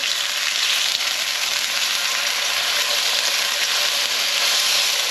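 Thick steaks sizzle loudly in a hot frying pan, a dense, continuous hiss and crackle of fat with no pauses and no one talking.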